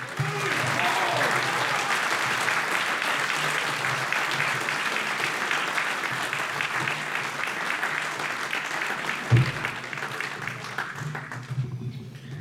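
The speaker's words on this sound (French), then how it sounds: "Je vous demande de l'applaudir" Sustained audience applause fills a room at a Christmas meal after a speech by a deputy, steady and dense throughout, with a few louder claps near the end and faint talk underneath.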